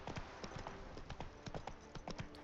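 A horse's hooves clip-clop in The Witcher 3, a quiet, steady walking rhythm of light, evenly spaced hoof strikes heard faintly and alone.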